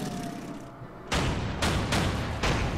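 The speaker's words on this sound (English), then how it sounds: "Battleship fires at a destroyer." Battleship guns firing at a destroyer in the naval strategy game Order of Battle, three or four heavy booming blasts spaced about half a second apart after a quieter stretch, loud and close with no voices.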